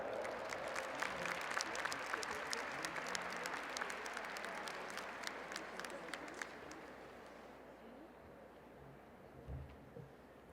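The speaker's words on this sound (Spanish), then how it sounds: "Los dejo con ella para un gran aplauso," A conference audience applauds to welcome a speaker at an early-childhood public policy congress in Puebla, a fairly distant, steady clapping that gradually thins and fades toward the end.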